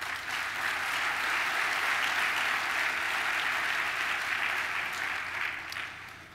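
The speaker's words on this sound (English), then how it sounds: "so give yourself a round of applause" Sustained audience applause at a Hall of Fame ceremony, a dense, even wash of many hands clapping that holds steady for several seconds before easing slightly at the end.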